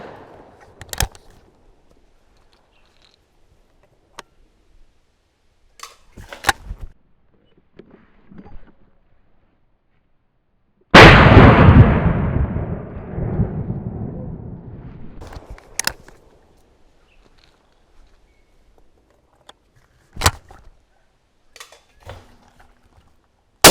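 A Baikal MP-18 single-shot shotgun fires one loud, sharp report at an outdoor range, its blast trailing off over a few seconds, with scattered clicks and handling sounds before and after.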